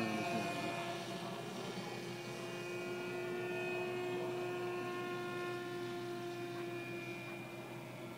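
Skywalker Sirius RC airplane in flight on its first outing, a steady electric motor drone with a sustained tone and high harmonics, fairly close and constant throughout, with no talk.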